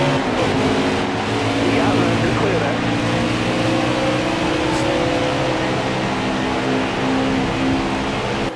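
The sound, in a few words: stock cars accelerating at race start in NASCAR Heat 4 video game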